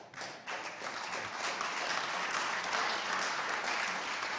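Sustained applause from a large crowd at a state governor's address, rising quickly and holding steady for several seconds.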